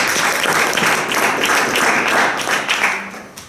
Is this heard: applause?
yes